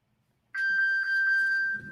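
A phone rings indoors with a steady, bright electronic tone that pulses in quick, even beats, starting abruptly after a brief silence and continuing loud and close with no talking.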